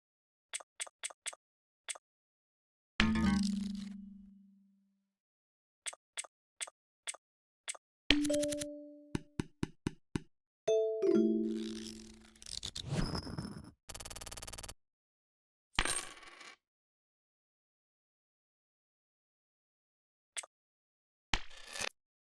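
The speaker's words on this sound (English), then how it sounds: "What you heard are only sound effects with no music." Video game sound effects with no music: a string of short separate dings, clicks and tonal blips, several short falling tones and a brief burst of noise, each standing alone with silent gaps between them.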